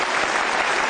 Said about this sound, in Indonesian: Boleh tepuk tangan untuk Latifah.